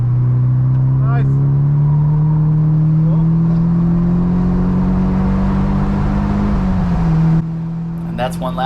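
Nissan Silvia race car lapping Mission Raceway in a time trial, its engine holding a loud, steady drone that climbs gradually in pitch, then drops sharply near the end as the car lifts off; faint voices come through over the engine noise.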